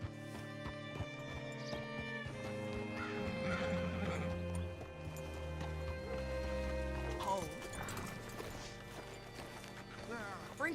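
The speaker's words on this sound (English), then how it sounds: "Hitch your horse up here." A horse whinnies loudly while hooves clop along in the video game Red Dead Redemption 2, with rustling movement and a second neigh near the end.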